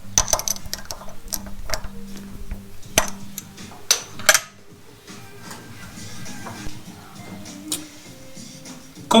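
Metal tool clinks and ticks as a cutting tool is clamped tight in a lathe's toolpost for boring, a scattering of sharp taps and small knocks over a low workshop hum.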